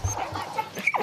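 A dog at a school Dog Day program gives a few brief, soft yips and whimpers, close by and fairly quiet.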